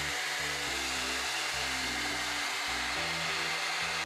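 A MermadeHair blow dry brush with a large oval barrel runs steadily on hair, giving a continuous whirring airflow hum with slight shifts in pitch as it moves through sections.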